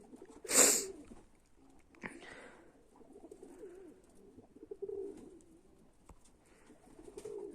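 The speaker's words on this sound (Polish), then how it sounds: "nie wiem, co z tymi gołębiami" Pigeons in a loft give soft, low cooing that repeats through most of the stretch, joined by a loud burst of wingbeats or a scuffle near the start and a few quiet knocks.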